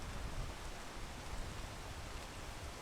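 Rain in the video game PEAK, a steady, even wash of rainfall noise that stays constant and fairly quiet throughout, with no voices.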